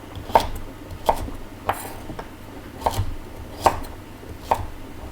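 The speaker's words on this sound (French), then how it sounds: "je vais tailler des petits dés" A knife chops salsify into small dice on a cutting board, six crisp, evenly spaced taps close by, with quiet kitchen background between strokes.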